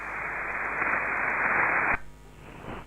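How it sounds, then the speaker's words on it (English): Steady hiss of band noise from an Icom IC-7300 transceiver while it sends a recorded CQ call, a loud flat rush that cuts off abruptly to a quieter noise floor near the end. "the radio is calling CQ"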